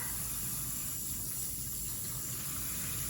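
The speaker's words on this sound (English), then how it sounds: "I'm gonna go ahead and fill this side up with some warm water" Warm water gushes steadily from a faucet into one side of a sink, a continuous broadband rush with no talk, part of rinsing leftover honey while rendering beeswax.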